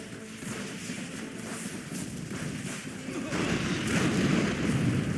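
Friendly artillery fire striking an MCV in a Command & Conquer match, heard as dense rumbling booms and thuds that build louder toward the end, with no clear speech over them.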